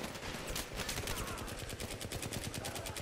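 Sustained automatic gunfire from a Battlefield 3 co-op mission, with rapid, evenly spaced shots rattling loudly and close for the whole stretch, without pause.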